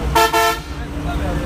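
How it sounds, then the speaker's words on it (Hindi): A bus horn on a route to Sirhind sounds two loud, sustained honks in quick succession, then the engine and road noise carry on underneath. "अंकल ही हॉर्न भी बहुत बढ़िया बजाते हैं।"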